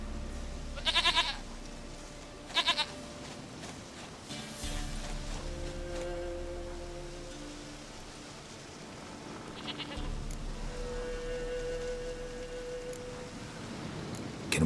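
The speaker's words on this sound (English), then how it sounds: "Goat of mine, dearest, sweetest goat." Goat bleating in The Witcher 3, a few short quavering bleats near the start and another burst later, over steady ambient game sound with a low hum.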